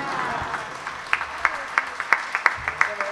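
Audience applause for a pianist after a tango orchestra performance: a steady wash of clapping with sharper individual claps standing out, heard at moderate distance.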